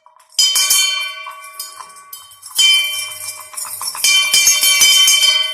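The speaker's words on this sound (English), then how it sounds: "we'd ring the bell, like a big grand doorbell" A loud bell rings repeatedly, several bright clanging strikes with long ringing overtones that overlap and build.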